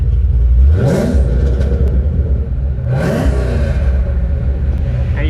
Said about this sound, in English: I'll hop in the car and flip the throttle a little bit.